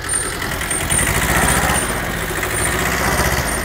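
A Kubota tractor engine runs steadily at close range, a continuous mid-pitched drone with a faint high whine on top, and no pauses across the stretch.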